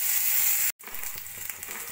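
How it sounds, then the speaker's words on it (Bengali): Cumin seeds and dried red chillies spluttering in hot oil, a steady bright sizzle that cuts out for an instant and then resumes, close up with no talking. "এবার ওই তেলের মধ্যে আরেকটু তেল দিয়ে দেবো জিরে আর শুকনো লঙ্কা ফোড়ন"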